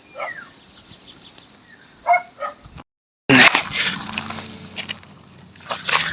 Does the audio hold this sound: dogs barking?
yes